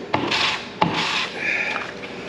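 Sheets of 220 grit sandpaper scrub a part flat for a V-Flow install on a Can-Am Maverick X3, two rough rasping strokes close up, each starting with a soft knock.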